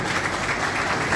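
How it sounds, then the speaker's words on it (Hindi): Loud, dense applause from an audience at a bar association golden jubilee celebration in Sonipat, a continuous wash of clapping with no gaps, close and filling the room. "जोरदार तालियां।"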